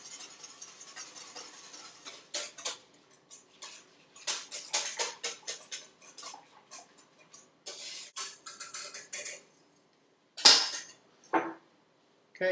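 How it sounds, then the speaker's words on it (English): A whisk stirring skim milk powder into milk in a bowl for homemade yogurt, quick irregular metallic clicks and taps in bursts with brief pauses, close and fairly quiet, one louder clank near the end. "make sure you whisk this through as evenly as possible"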